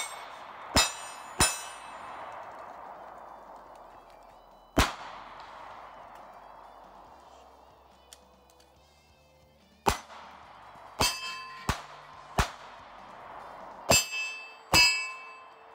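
Pistol shots from a CSX striking a 6-inch steel target plate at a range, about ten sharp cracks spaced irregularly, some paired with a ringing metallic ping, the earlier ones trailing off into decaying echo.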